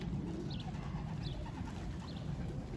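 Pigeons coo softly in a loft, a few low throaty calls rising over a constant murmuring background, fairly close but not loud, with no speech.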